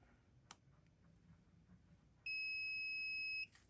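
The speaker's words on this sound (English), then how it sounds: "That beep means I have continuity, so I'm good." A multimeter set to continuity gives one steady, clear electronic beep of about a second while testing a pin on a Two Kings boost guitar pedal kit build, following a quiet stretch with a faint click.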